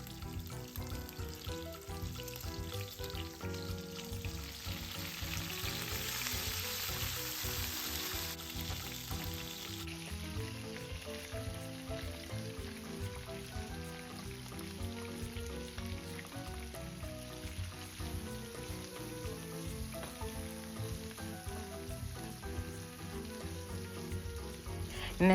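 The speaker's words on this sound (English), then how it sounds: "I'm just going to saute the onions and the peppers until they're soft" Chorizo sausage, peppers, onion and garlic sauté in a pan for Cuban red beans, a steady close sizzle and crackle that runs continuously with no talking over it.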